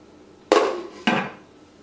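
A lid is set on a cooking pan of boiling tomatoes, giving two sharp metallic clanks about half a second apart. Each is close and loud and rings out briefly.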